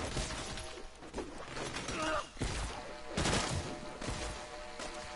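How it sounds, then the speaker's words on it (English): Semi-automatic gunfire from new weapons in a video game, separate bursts of sharp shots with brief gaps between them, mixed with shattering and crashing impacts at close range and moderate loudness. "So it's not constant firing, it's just semi-automatic."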